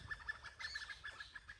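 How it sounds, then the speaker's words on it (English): Birds in an Indian jungle village call out faintly as they take off, a scatter of short, clucking chirps repeating at a distance over quiet surroundings. "a lot of birds just flew off then."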